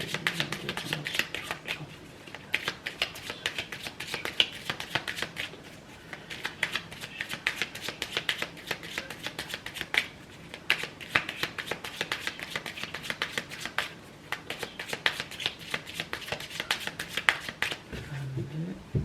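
Tarot cards being shuffled and cut by hand, a steady run of soft riffling and flicking close by, fairly quiet, with someone speaking French over parts of it.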